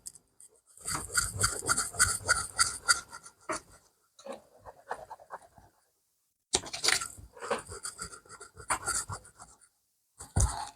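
An eraser rubbed back and forth over paper with firm pressure, giving loud bursts of dry scratchy scrubbing separated by short pauses, close up with no talking.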